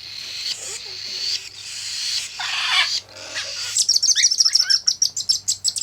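Cockatiel chirps and calls near baby cockatiels, a mix of squawks then a rapid run of close, loud repeated tweets in quick rhythm, with faint voice in the background.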